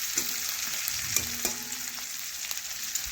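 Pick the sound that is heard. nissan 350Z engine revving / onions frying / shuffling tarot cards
onions frying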